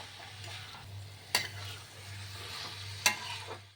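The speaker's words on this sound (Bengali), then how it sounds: "তেলে একটু ভাজা ভাজা করে নেবো।" Banana flower and potatoes frying in oil for a Bengali prawn and banana-flower dish, a steady soft sizzle with a low hum beneath and two sharp utensil clinks against the pan.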